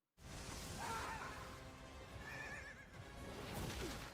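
A horse in an animated fantasy series neighs and whinnies in two shrill rising calls, loud and close against a rushing background, with a final brief snort, no talk.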